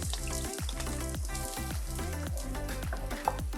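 Onions hit hot olive oil in a pan for a squid stuffing, giving a constant frying sizzle beneath prominent rhythmic background music.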